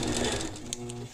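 Sewing machine stitching steadily along the curved edge of a circle quilting ruler, a close continuous whirring hum with a fast mechanical rhythm lasting about a second.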